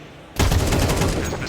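Rapid gunfire from a wallbang headshot in Counter-Strike 2 during a professional esports match, a sudden loud burst of shots that starts abruptly and holds at a dense, sustained level.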